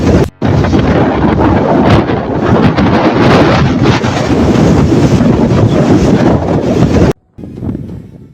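Storm Benjamin's fierce wind gusts roar and batter the microphone in a loud, continuous rumbling blast, cut off briefly at the start and near the end.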